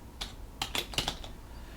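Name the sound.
typing a search phrase on a computer keyboard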